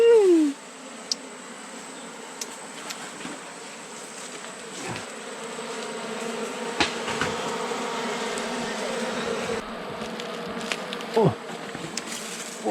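Honey bees buzz steadily through a forest honey hunt, a close, dense drone that holds for the whole stretch, with a few louder passes of single bees near the ear.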